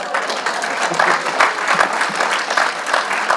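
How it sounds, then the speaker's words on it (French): A congregation applauding inside a church during a sermon, a loud, close burst of many people clapping in a brisk, slightly uneven rhythm, lasting a few seconds. "On peut l'applaudir."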